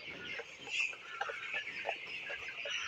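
Broiler chickens in a poultry shed, kept short of water, make a dense, faint, steady chorus of clucking and chirping from many birds, with no talk.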